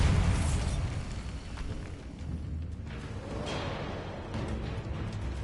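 Blasting spell explosions in Hogwarts Legacy: a loud, deep boom up front that rolls off into a rumbling, crackling tail, with a further burst swelling near the end of the loud, dense game-combat noise.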